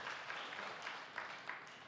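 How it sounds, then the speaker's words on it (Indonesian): A church congregation claps during a sermon, a faint, distant wash of applause that holds steady for under two seconds with a few slightly louder claps standing out. "Berikan tepuk tangan yang meriah buat Tuhan."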